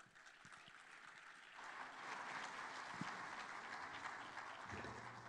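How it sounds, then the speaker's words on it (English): An audience at the Commonwealth Business Forum opening ceremony applauds, a soft, distant, steady wash of clapping that swells slightly and continues throughout. "Please give a warm round of applause to the person that will take over and carry on the next session."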